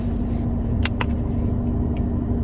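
Cabin of a moving car, with a constant low road rumble and engine drone filling the background, a steady hum throughout and a few brief bright ticks or clicks near the start.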